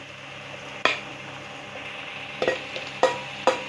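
Prawns frying in a pan with a soft steady sizzle, broken by a few sharp scraping knocks of a spoon stirring against the metal, close and clear.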